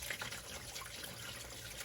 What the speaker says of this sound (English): Let's pour it in the tub.